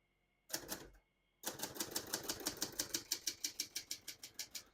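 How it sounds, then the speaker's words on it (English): Typing on a 1968 Hermes 3000 portable typewriter: a short burst of crisp key strikes, a pause, then a steady run of about fifteen sharp, evenly spaced clacks, close and dry. "We're going to keep that on single for now and finish typing."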